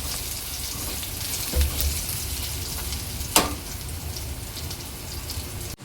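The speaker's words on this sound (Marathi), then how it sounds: "एक 7 ते 8 मिनिटांनंतर आपले सोयाबीन पूर्ण तळून झालेले आहे।" Soybean chunks fry in hot oil in a kadhai, giving a soft, steady sizzle with a couple of sharper crackles and spits, fairly quiet throughout.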